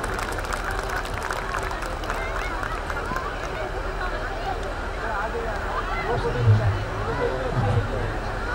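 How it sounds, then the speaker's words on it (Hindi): Sustained applause from an audience welcoming an honoree at the Uttarakhand Utsav 2017 honours ceremony, steady clapping mixed with crowd murmur, rising slightly toward the end. "अनिल बिष्ट जी का जोरदार तालियों से स्वागत करिए"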